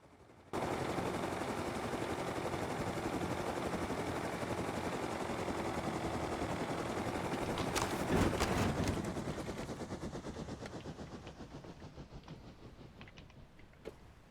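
Rapid, sustained automatic fire from a Tommy gun in the survival game Rust, a dense loud rattle running for several seconds before cutting off into fading echoes and scattered single shots.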